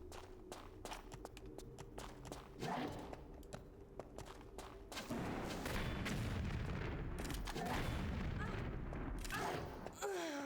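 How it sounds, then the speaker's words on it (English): Rocket launcher shots and explosions in Tomb Raider 3 Remastered, with sharp repeated impacts early on and then a sustained rumbling blast and clatter of game combat. "Dude, how many rocket launcher shots does it take?"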